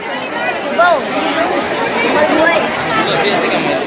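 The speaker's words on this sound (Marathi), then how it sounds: "आपाट गर्दी" A huge crowd packed into Tuljapur temple, producing a dense, continuous babble of overlapping voices close by, with some individual speech standing out.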